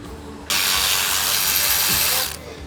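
Ratchet wrench clicking steadily for about two seconds while cracking loose the starter bolts on a 2017 Volkswagen Beetle, a loud, close, continuous buzzing ratchet run with quiet garage ambience before and after.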